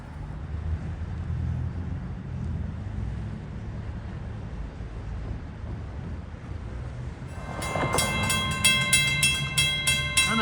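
A Long Island Rail Road train on the Port Jefferson Branch rumbles past steadily, with crossing bells starting to ring in a rapid repeating pattern near the end as the gates go down.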